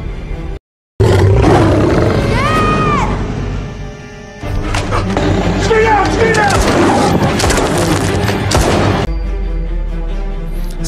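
A wild lion roars loudly and close in a dramatic scene, with deep repeated roars over a rumbling background, joined by bursts of sharp gunfire-like booms and some shouting.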